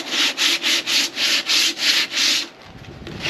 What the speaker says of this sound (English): I've been just sanding it like this.